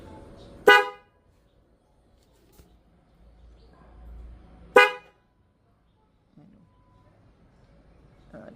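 Two loud, sharp blasts from a Denso horn fitted to a Honda CB150X motorcycle, each a short toot about four seconds apart, close by, with quiet pauses and faint low rumble between them.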